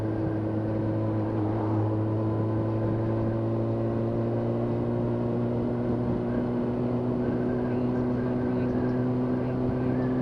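A Yamaha YZF R6 motorcycle idles at low revs with a steady, humming drone whose pitch wavers slightly as it stutters, heard fairly close and fairly quiet with no talking over it.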